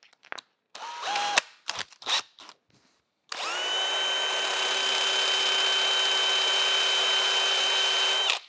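A power sander with 220 grit abrasive works metal on a Monarch 10EE lathe restoration part. A few scattered clicks and scrapes come first, then a steady, close whirring drone runs unbroken to the end.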